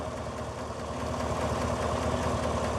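A 2017 Chevy Silverado 5.3 truck engine idles steadily up close, with a fast, faint lifter ticking running through the low rumble.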